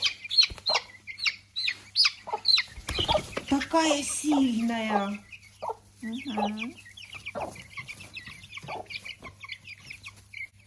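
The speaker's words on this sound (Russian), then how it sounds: "Я смотрю, одни петухи." Young chickens, mostly roosters, cluck and call close by, with a few louder squawks, while a person speaks briefly over them.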